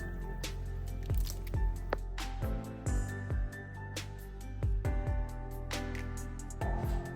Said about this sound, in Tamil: கையால் தான் நல்லா கரைச்சி எடுக்க போகிறேன்.